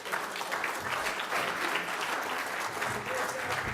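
At the PGA Show 2012 golf media awards, an audience applauds an award winner with dense, sustained clapping at moderate loudness and no voices heard over it.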